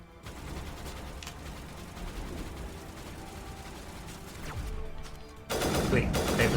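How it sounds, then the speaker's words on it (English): Rapid gunfire from a three-round burst rifle in the Mass Effect video game, dense repeated shots over a constant busy game soundscape, swelling louder near the end. "I dig this 3-round burst gun"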